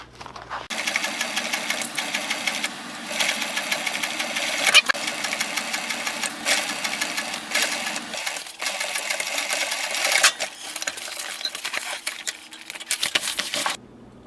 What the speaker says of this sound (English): When I sew this up, I'll start from the middle and go this way